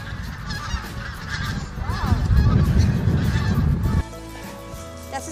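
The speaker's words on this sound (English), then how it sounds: "Geese, Lucas, geese." Geese honk loudly and repeatedly outdoors near a spot where trees have just been planted, a busy overlapping flock that fades to a quieter background after a few seconds.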